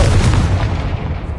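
A Confringo spell explosion in the Hogwarts Legacy video game: a loud, close, deep blast like artillery fire that hits at once and rumbles away over a second and a half.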